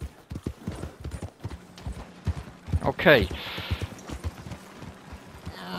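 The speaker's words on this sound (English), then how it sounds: "I can hear the wagon going away in the distance" Hooves clip-clop steadily as a horse-drawn wagon in a video game rolls along at a moderate distance, heard through a gaming headset, with a brief whinny, and a person speaks briefly over it.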